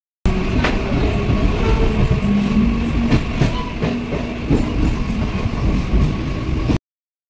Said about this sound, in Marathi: आम्ही कुर्ला ट्रेनमध्ये बसलेलो आहोत